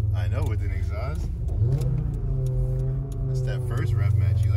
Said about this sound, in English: It's a 5-cylinder. This is a good sounding car